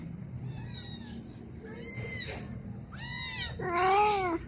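A hungry house cat meows four times in a row, close and clear, each cry rising and growing louder, the last one the longest and most insistent.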